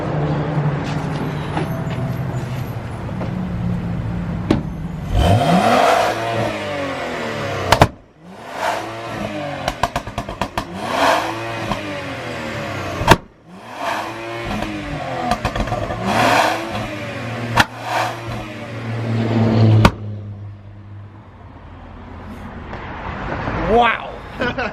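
Tuned truck engine revving repeatedly, each rise in pitch followed by a sharp pop or crackle, with people talking over the revs.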